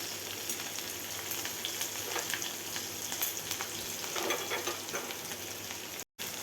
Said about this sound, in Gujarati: ડુંગળી એડ કરી દીધી છે તેને આપણે ગોલ્ડન બ્રાઉન થાય ત્યાં સુધી સતરો લેવાની